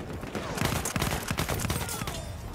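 Gunfire in the video game Battlefield 1 comes as rapid, overlapping bursts of shots, fairly quiet overall and continuing throughout.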